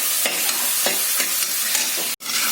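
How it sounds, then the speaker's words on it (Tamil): Steady, loud sizzling of onions frying in hot sesame oil, with a few faint scrapes of stirring and a brief cut near the end. "இந்த 2 வெங்காயத்தை போட்டு நல்லா ஃப்ரை பண்றேன்."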